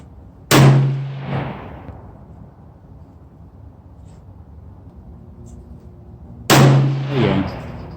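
Two rifle shots from a TC Compass in 6.5 Creedmoor fitted with a cheap $17 muzzle brake, each a sharp, loud outdoor crack with a rolling echo, spaced about six seconds apart with quiet ambience between.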